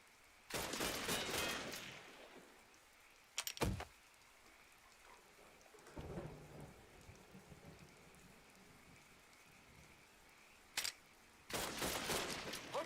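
Bursts of enemy gunfire in Mafia 3, several rapid crackling volleys at moderate distance with quiet gaps between, the last two bursts sharp and close together near the end, no talk over them.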